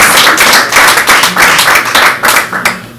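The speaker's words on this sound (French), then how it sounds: "Nous allons applaudir pour lui." Crowd applause at an award ceremony honouring a Congolese African music star, loud and sustained with dense overlapping claps that swell in waves and taper off near the end.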